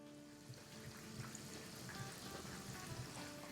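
Chicken lollipop wings fry in hot oil at medium-high heat, giving a steady, quiet sizzle and crackle with no voices.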